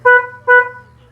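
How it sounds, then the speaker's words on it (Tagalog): An aftermarket loud horn wired to replace a car's stock alarm chirp gives two short, loud honks in quick succession when the car is unlocked, then fades out over a faint low hum. "ang tutunog na ngayon mga boss is yung ating loud horn"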